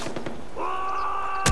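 A rocket launcher fires in the video game Far Cry 4: a rising whine swells into a sustained tone, then a sharp, loud blast bursts out near the end.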